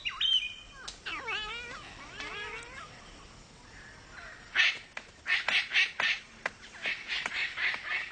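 Palm cockatoos giving a run of calls: first a few rising and falling whistled notes, then a burst of loud, harsh, rhythmic squawks and clicks, fairly close, with no talking.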